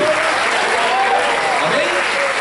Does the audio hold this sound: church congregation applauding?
yes